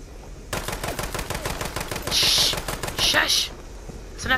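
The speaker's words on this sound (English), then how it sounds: "Enough shooting, shush." Rapid automatic gunfire in Fallout 76, a dense burst of quick shots running for about three seconds, then fading, with brief hissing bursts mixed in.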